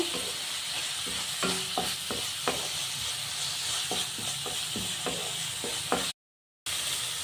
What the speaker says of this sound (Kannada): ನೋಡಿ ಮಸಾಲೆ ಚೆನ್ನಾಗಿ ಫ್ರೈ ಆಗಿದೆ ಎಣ್ಣೆಯಲ್ಲಿ